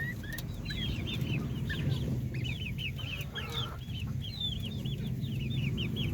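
Darag native chickens about two months old cluck and chirp continuously on a Philippine farm, many overlapping calls close by over a low background rumble.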